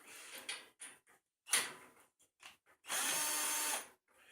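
A 1/2-inch socket and wrench work a 1/2-inch bolt and nut off a Yerf Dog go-kart frame, heard as short, close bursts of ratcheting clicks and then one longer sustained ratchet run near the end.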